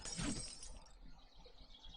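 Glass shatters in the zombie survival game 7 Days to Die. A sudden loud crash at the start fades into tinkling fragments and a quiet tail.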